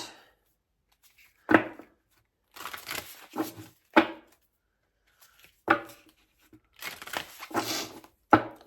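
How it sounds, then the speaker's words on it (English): Tarot cards are shuffled by hand in a quiet room, a series of sharp papery riffles and slaps arriving in irregular clusters, some single and some grouped, close and crisp with silences between and no talk. "let's do a good shuffle to all those cards that came out"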